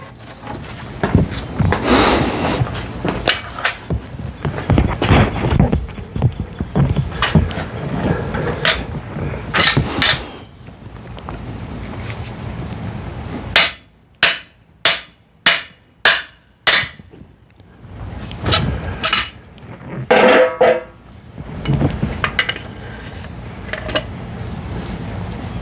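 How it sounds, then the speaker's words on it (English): A hammer knocking on a journal to drive it out: after a stretch of rubbing and clattering, six sharp, evenly spaced metallic taps ring out close and loud, followed by a few more scattered knocks and handling noise. "give a few love taps back here with the hammer of your choosing"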